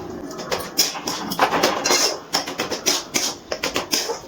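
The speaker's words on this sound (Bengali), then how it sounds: "অনবরত নাড়াচাড়া করছি।" A spoon scraping and clinking against a pot while a milk mixture with date jaggery is stirred continuously over a medium flame, giving close, rhythmic metallic taps.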